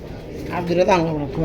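Pangji pigeons give a soft, low coo, close by, with someone speaking over it.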